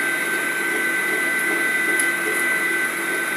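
Electric mixer beating eggs with sugar for a génoise sponge cake, a steady, even motor whine that runs unbroken and close throughout, with no talking over it.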